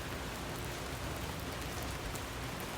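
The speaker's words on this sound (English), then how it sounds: "I think we might get a little rain video out of that." Steady, dense rain falls outdoors along the Kancamagus Highway, an even hiss of drops with no pauses and no voices.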